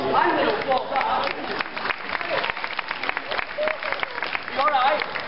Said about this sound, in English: Oh, I'm going to applaud that.